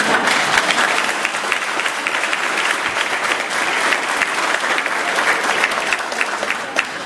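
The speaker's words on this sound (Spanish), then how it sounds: "me deberían de dar un aplauso a mí" A congregation at a patronal feast Mass applauds in sustained, full clapping with sharp individual claps standing out, steady throughout and not covered by speech.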